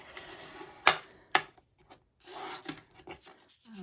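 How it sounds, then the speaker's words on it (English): A bone folder folds and burnishes a small paper note card, giving two sharp close creasing snaps followed by softer rubbing strokes, with no talking. "And my bone folder. Fold and burnish."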